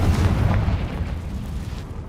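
A Confringo spell explosion in the Hogwarts Legacy video game: one deep, rumbling blast with a heavy low-end boom that fades over about two seconds, with no talking.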